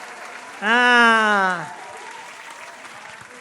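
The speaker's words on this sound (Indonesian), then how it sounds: "Tepuk tangan buat kelompok bambu runcing" A church fellowship group cheers and applauds for the Bambu Runcing team, with a loud, rising voiced whoop lasting about a second over a lower bed of clapping and crowd noise.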